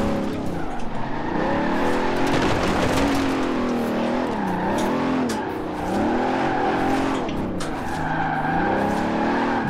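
Heavy two-ton car with a 6.75-litre engine drifting in Forza Horizon 4, a continuous loud engine drone with rising and falling revs and tire squeal running throughout.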